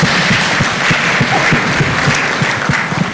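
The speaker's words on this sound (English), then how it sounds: "Big round of applause to all of you who've taken part in this." Dense, steady audience applause at a national youth exhibition, many hands clapping together in a loud continuous wash that holds throughout.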